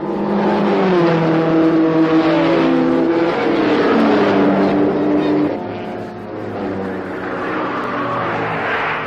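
Racing sedans, a Studebaker and Ford Cortinas, roar past at the 1965 Armstrong 500, with loud, rising and falling engine notes from a car speeding by, then another approaching.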